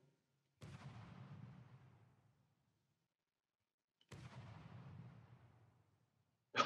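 Two heavy cannon shots in the From The Depths video game, each a sharp boom followed by a long decaying rumble, a few seconds apart, with another blast starting at the end and no talking.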